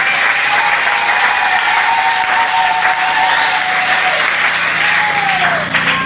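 A church congregation in Kinshasa applauds and cheers for God, a dense, loud, sustained wall of clapping with shouts mixed in, steady from start to finish.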